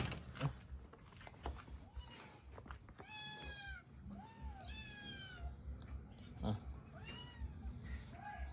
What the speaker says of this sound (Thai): แมวจร